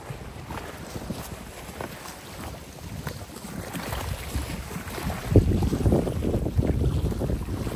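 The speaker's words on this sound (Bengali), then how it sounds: "মোটামুটি ছোট একটা ট্রলারই গেছে, আর তার ঢেউই এত বড়" Waves from a small passing trawler lap and slosh against a riverbank, with wind buffeting the microphone; the washing grows louder and rougher toward the end, and no one speaks.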